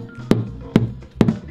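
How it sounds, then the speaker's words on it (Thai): Three distinct knocks on a car floor panel fitted with a sound deadening mat, evenly spaced about half a second apart, each a short, dull thud with little ring. "ฟังนี้นะครับคือเสียงพื้นที่ติดแดมครับ"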